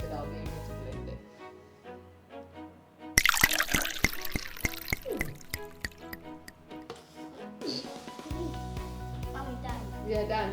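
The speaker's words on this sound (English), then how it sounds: "Put some liquid in there so that I'll be able to blend it." Liquid poured into a blender jar for kids' mystery juice, a burst of splashing and trickling in the middle, with music playing before and after.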